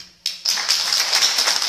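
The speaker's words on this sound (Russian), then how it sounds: "аплодисменты" Applause at a school event, beginning abruptly and continuing as steady close clapping from a crowd for over a second.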